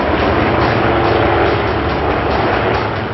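Indian Army Dhruv military helicopter producing a loud, steady broadband engine and rotor roar that continues unbroken throughout.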